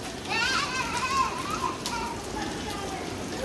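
Steady rain falls in a continuous broadband hiss, with children's voices and playful calls rising over it early on.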